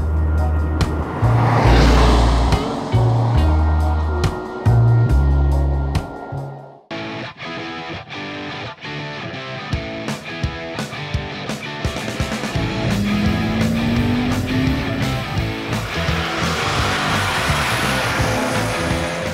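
A BMW M235i coupé drives on rain-soaked roads in Burgundy, with loud engine roar and tyre hiss at first, then a quieter steady drone and a rising engine note, with no talking.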